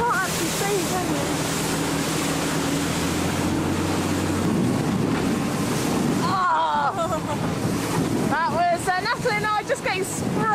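A rigid inflatable boat crosses open sea on the Orkney expedition, with loud continuous wind buffeting and waves rushing and slapping against the hull; voices break through briefly near the end.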